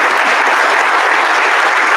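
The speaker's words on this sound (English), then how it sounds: "So clap it up for you guys." Loud, dense clapping from an audience at a football awards event fills the whole moment, a steady roar of applause without pause.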